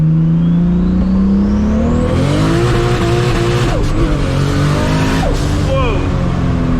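A 1000-horsepower MKIV Toyota Supra rolls into a second-gear pull, its engine note climbing steadily as it accelerates hard, with tire chirps and gear-change dips as it rises, voices audible inside the car.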